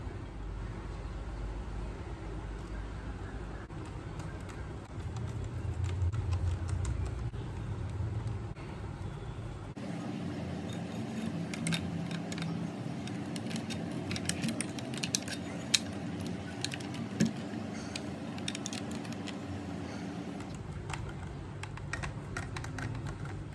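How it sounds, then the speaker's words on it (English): An RCD 330/340 car head unit is reassembled by hand, with small plastic clicks, taps and scrapes of parts being fitted together, scattered irregularly over a quiet hum, no voices. "Okay, so we'll try assembling all the remaining components back."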